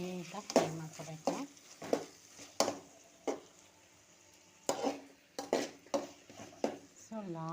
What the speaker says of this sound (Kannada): ಸೊ ಲಾಸ್ಟಲ್ಲಿ ನಾನು ಫ್ರೈ ಮಾಡ್ಕೋತಾ ಇದ್ದೀನಿ